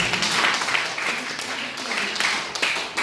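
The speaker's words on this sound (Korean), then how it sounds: "우리 하나님께 영광의 박수 올리겠습니다" Church congregation clapping together during a Sunday worship service, a broad, close burst of applause sustained for a few seconds with some voices mixed in.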